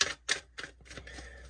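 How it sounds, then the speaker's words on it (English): Tarot cards being shuffled in a few quick bursts, crisp papery riffles and taps that grow softer, close up and fairly quiet, with no talking. "I'll do 3 more shuffles here"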